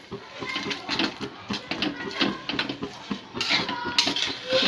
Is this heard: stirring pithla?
yes